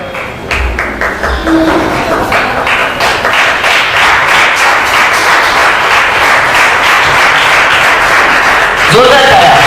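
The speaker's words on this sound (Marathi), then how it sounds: "जोरदार टाळ्या" Loud applause from a congregation at a Christian healing gathering, sharp crowded clapping that swells quickly and stays dense and intense throughout, with a brief voice near the end.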